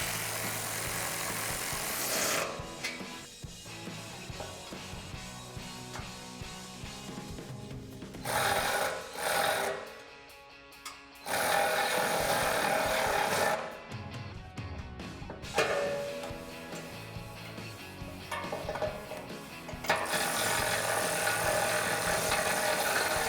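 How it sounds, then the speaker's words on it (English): An electric ratchet with a 13mm socket tightens the bolts on a RedRock 4x4 Avenger full-width front bumper on a Jeep Wrangler JL. It whirs loudly and steadily in several long bursts, with short quiet gaps between them. "I'm just going to take an electric ratchet to quicken up the process"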